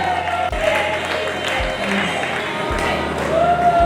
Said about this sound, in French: Accueillons-la chaleureusement avec des acclamations spirituelles.